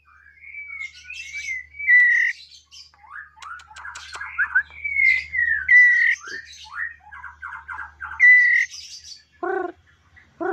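Young female trotolan dove chick at eleven days old gives a run of high squawking chirps and squeaky calls, close and fairly loud, with short pauses between bursts and no talking.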